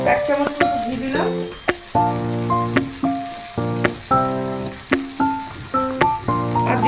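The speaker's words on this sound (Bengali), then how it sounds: "দিয়ে দিচ্ছি একটু ঘি, 1 চামচ ঘি দিলাম।" Ghee spooned into banana flower curry frying in a pan, a steady sizzle under clinking metal spoon strikes and repeated stirring scrapes at an even rhythm, close up and fairly loud.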